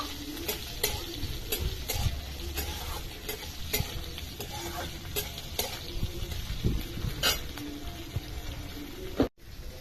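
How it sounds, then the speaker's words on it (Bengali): A utensil stirs chopped beans frying in a sizzling pan for flattened-rice pulao, with repeated scraping strokes over steady frying crackle, close and fairly loud. "এবার আমি কিছুক্ষণ নেড়ে নেব।"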